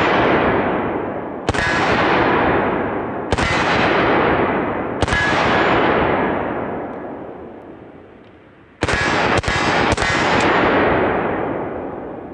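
A rifle fires 5.45 ammunition at a steel target: about seven loud, sharp shots, some spaced seconds apart and some in quick succession, each with a ringing metallic tail that fades out.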